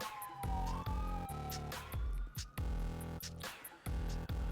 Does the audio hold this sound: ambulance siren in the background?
yes